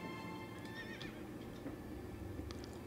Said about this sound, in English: Let's hop on my horse